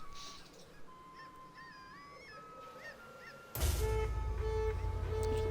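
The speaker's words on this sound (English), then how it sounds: "You can even hear seagulls." Seagulls cry with wavering high calls over rainy ambience in the Viking strategy game Bad North, before a louder burst of game sound cuts in partway through.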